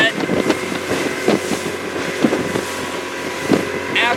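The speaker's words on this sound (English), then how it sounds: "as you can hear, the prop's not digging in" Outboard motor on a Lund boat with its propeller cavitating, a steady droning engine hum with periodic surging bursts as the prop loses grip, plus wind noise over the microphone.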